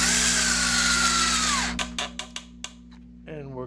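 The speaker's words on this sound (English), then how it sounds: "we're gonna take this drill, which has a screwdriver bit in it" A cordless drill fitted with a screwdriver bit drives a screw into wood, heard as a steady close motor whine that ends, followed by several short sharp clicks and knocks as the screw seats, then a brief voice.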